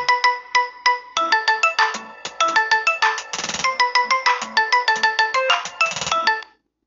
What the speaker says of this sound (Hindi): यहाँ पे देख सकते हैं आईफोन रिंगटोन 11